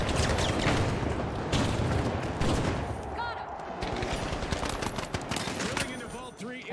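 Rapid automatic fire from a Mark 18 EBR rifle in the shooter game The Finals, dense volleys crackling almost continuously at close range, with talk running over the top throughout.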